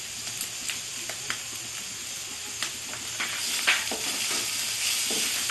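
Lote fish fries in oil with crushed ginger and chilli powder, giving a soft, steady sizzle. Faint clicks and scrapes of stirring break through it, with no voices.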